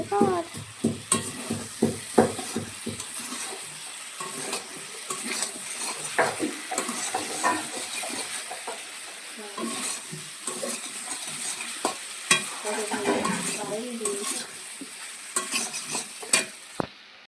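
Batter sizzles and fries in a hot pan while it is stirred, with repeated scraping and stirring strokes coming through loud and close over a steady crackle.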